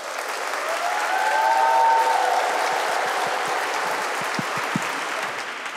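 An audience at the IHE Delft graduation ceremony applauds as graduating student speakers are welcomed, with dense, sustained clapping that swells and then holds steady, a few sharper individual claps standing out.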